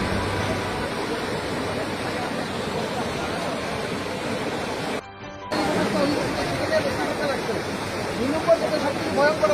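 Floodwater pours in from a broken embankment on the Longai River near Barigram. A loud, steady broadband rush continues throughout with only a brief dip midway, while voices sound faintly beneath it.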